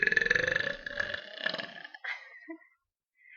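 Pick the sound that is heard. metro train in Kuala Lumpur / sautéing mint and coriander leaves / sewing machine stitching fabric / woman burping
woman burping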